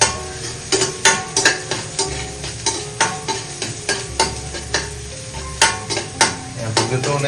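Garlic and onion sautéing for ginisang corned beef, a steady sizzle broken by repeated rhythmic scraping strokes of a spatula against the pan, close and loud, with no talking.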